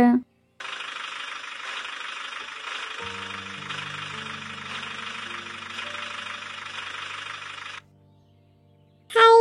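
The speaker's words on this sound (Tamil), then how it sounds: "ஏதோ வண்டி சத்தம் கேட்குற மாதிரி இருக்கு, அது நம்ம டிராக்டர் தான் நினைக்கிறேன்." A tractor engine chugs steadily at idle for several seconds, close and even. Brief voices are heard at the very start and end.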